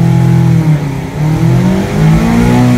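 2020 Mazda MX-5 engine revving, a loud close mid-pitched drone that rises and dips in a few surges over a couple of seconds, heard alone.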